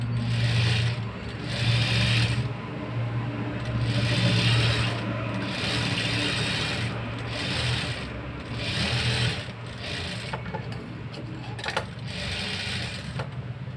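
An electric sewing machine runs in repeated bursts stitching a peeping blouse, close and whirring, with brief pauses between runs and faint fabric handling.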